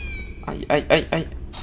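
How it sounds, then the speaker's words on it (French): A cat in the PS1 game Harry Potter à l'école des sorciers meows three or four times in a quick series of short, close calls, with a faint game background beneath. "Eh, c'est un chat."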